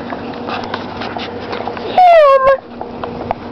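A dog gives a single loud, rising-and-falling whimper lasting about half a second, near and clear over a quiet indoor room background.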